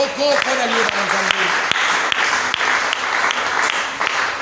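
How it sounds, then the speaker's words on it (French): A church congregation applauds together, a dense, steady wash of clapping with a few sharper claps standing out, while a voice briefly rings out over the start. "Acclamons la parole de Dieu."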